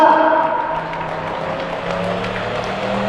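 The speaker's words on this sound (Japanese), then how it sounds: "さあ、皆さん、お拍手をお願いしましょう" A crowd applauds at the Sound of Engine 2019 classic motorsport event at Suzuka, with a red-and-white Yamaha motorcycle about to run. The clapping is steady and fairly loud, with a low idling hum and a voice talking over it.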